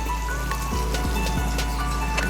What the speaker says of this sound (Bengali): আর এদিকে বিভৎস বৃষ্টি হচ্ছে।